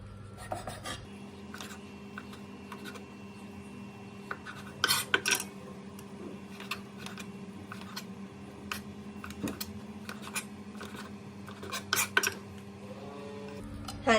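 A knife taps and scrapes on a cutting board in scattered bursts, slicing cooked chicken into strips, close and fairly quiet, with a faint steady hum underneath.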